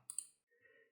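A single faint, close mouse click while working in Eagle Gestão accounting software, a short double tick followed by a softer release, alone in near silence.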